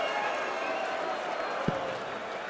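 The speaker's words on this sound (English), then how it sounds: "The cheer will tell you everything" A darts crowd at the Palace cheers and applauds after a checkout in a PDC World Championship match between Ryan Meikle and Fallon Sherrock, a broad steady roar of clapping and voices with one sharp thump.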